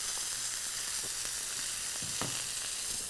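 Masala pork chops sizzle in a hot pan with a dense, steady hiss, and a few soft thuds and scrapes mark the chops being turned over.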